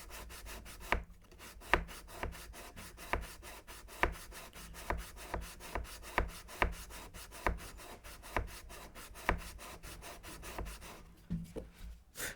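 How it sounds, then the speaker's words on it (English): Sandpaper rubs rhythmically on a wooden neck shim for a 1939-style Martin D-18 guitar, a close, quiet series of steady back-and-forth scraping strokes roughly twice per second, with no talking. "And so I can come in here and sand like this."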